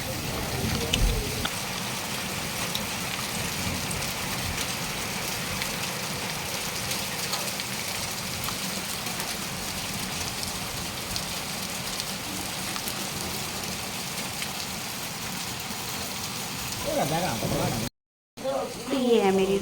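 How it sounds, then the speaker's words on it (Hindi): Heavy rain after a hailstorm, a steady dense hiss pouring down close by without a break for most of the stretch, with a brief dropout near the end. "उसके बाद बहुत तेज़ ओले गिरे और बहुत तेज़ बारिश भी हुई"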